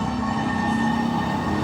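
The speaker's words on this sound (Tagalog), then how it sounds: "So we just let the sirens, really ring loud as they can." Fire truck sirens sound continuously on a city avenue during a fire response, a loud sustained wailing tone held steady with traffic rumble underneath and no talk.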